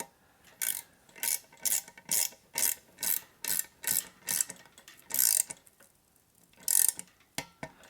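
A torque wrench ratchets in rapid bursts of sharp mechanical clicks, about a dozen close, repeated strokes with short pauses, while tightening bolts on carbon fiber road handlebars.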